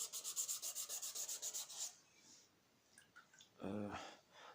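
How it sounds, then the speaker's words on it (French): Hand sanding a PT Cruiser headlight with back-and-forth strokes: about two seconds of steady, rhythmic rubbing strokes, close and quiet, followed by a pause, faint handling noises and a brief voice at the end. "quand on ponce, bien poncer dans les deux sens"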